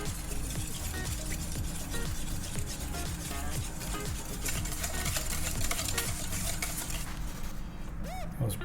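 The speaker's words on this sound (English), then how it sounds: "Mixing everything." Ingredients for Benihana-style yum yum sauce are stirred together in a bowl, giving a busy, continuous scraping and sloshing mix throughout, with a faint clink near the end.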